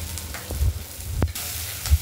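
Ginger paste frying in oil for a Bengali moong dal, a soft steady sizzle close by, broken by a few brief clicks and knocks of utensils.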